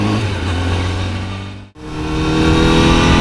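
A Honda CBR1000RR-RSP superbike with a quick shifter accelerates at lower revs. Its loud engine drone breaks off for an instant at a gear change, then picks up again and keeps pulling.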